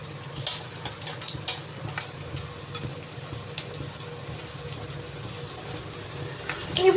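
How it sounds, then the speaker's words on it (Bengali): Bori lentil dumplings fry in hot mustard oil, a close, continuous bubbling sizzle broken by a few louder spatters and utensil clinks, with no one speaking. "তেল গরম হয়ে গেছে, আমি বড়িটা আগে ভেজে তুলে রাখছি।"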